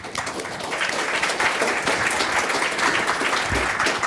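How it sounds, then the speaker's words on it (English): Audience giving a warm round of applause to welcome panel guests, a dense, steady wash of many hands clapping at close range without pause. "Let's give them a warm welcome."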